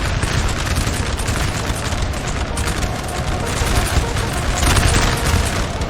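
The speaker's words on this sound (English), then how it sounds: "They're firing artillery directly into..." Artillery fire in the video game Napoleon: Total War, a dense, continuous rumble of overlapping booms and crackling volleys from a large 4v4 battle at Talavera, loud and steady throughout.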